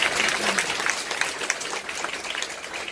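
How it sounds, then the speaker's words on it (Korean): An audience claps together at a seminar talk, a dense and steady burst of applause that carries on through the whole stretch at close range. "잠깐 일어나서 박수 한번 쳐드리세요"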